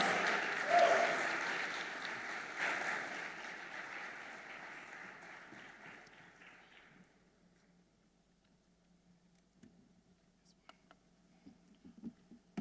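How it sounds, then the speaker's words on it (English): Audience applause at a financial markets congress opening ceremony, a dense wash of clapping that swells early and then fades away over several seconds, leaving a quiet room with a few scattered claps. "A round of applause."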